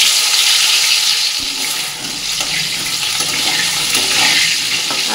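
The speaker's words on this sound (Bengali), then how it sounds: "এটা ভেজে নেব।" Cut potatoes fry in a pan with a loud, constant, close hiss and sizzle, and a brief soft knock partway through.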